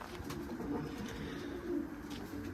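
Several male pigeons penned together coo softly and repeatedly, overlapping one another in a low, continuous murmur with faint background rustling.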